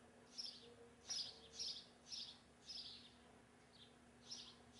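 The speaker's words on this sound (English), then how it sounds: "There's actually a bunch of birds chirping in the distance." Several birds chirp in the distance outside a house, faint short tweets repeating at irregular intervals against a quiet background with a low steady hum.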